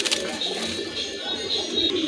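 Pigeons coo softly and repeatedly at a breeding pair dealer's loft, with a steady wash of background noise and other birds chirping faintly around them.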